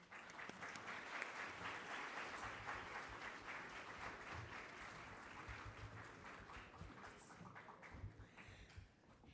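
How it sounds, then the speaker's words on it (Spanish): Sustained applause from a crowd, dense steady clapping that carries on for several seconds before tapering slightly near the end. "Un aplauso, por favor."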